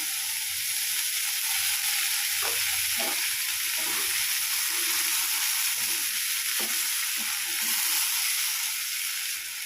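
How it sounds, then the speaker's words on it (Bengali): Spice paste fries in hot oil for a Bengali tel koi fish curry, with a dense, steady sizzle throughout and occasional soft scrapes of stirring underneath. "এভাবে মশলাটাকে আমি কষিয়ে নেব যতক্ষণ না মশলা থেকে তেল ছেড়ে দিচ্ছে"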